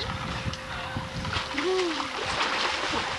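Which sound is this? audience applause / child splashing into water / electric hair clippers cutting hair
child splashing into water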